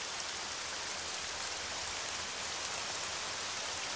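Steady rain hisses continuously in the video game Arma 3, an even, soft wash of falling drops with no voices or other sounds.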